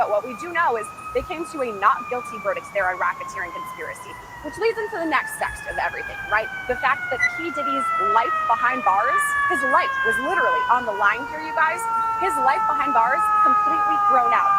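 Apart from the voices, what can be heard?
emergency vehicle sirens on a Manhattan street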